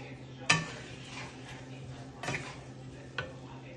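Potato and onion frying together in oil, a low background sizzle broken by three sharp clinks or scrapes of a utensil against the pan, close by and with no talk.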